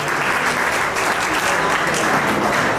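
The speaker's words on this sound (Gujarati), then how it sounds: "ભાઈ તાળી વગાડી દેજો એમના માટે." Sustained applause from an audience at an annual caste community gathering in Bardoli, steady dense clapping filling the whole stretch at close range, with faint voices mixed underneath.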